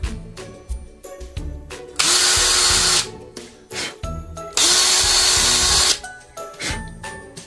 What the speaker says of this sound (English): Now I'm gonna drill the holes in the shoes.